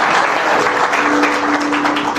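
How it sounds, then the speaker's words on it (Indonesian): Church congregation applauding together in a worship service, a steady dense wash of clapping that fills the whole moment with no talk over it. "Kasih tepuk tangan yang kencang dong."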